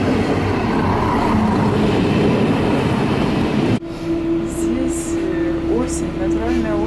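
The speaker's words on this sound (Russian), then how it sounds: "А вот и наш поезд мчится до Дюссельдорфа." A train bound for Düsseldorf in Germany rushes past with a steady, loud rumbling roar that cuts off abruptly, leaving a quieter interior hum with a sustained tone and faint chirps; a voice talks over it.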